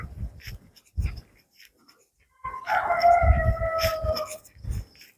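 A dog howls in a long, drawn-out wail through the quiet early-morning streets of Sylhet, after a few short barks and scuffles, with no talking.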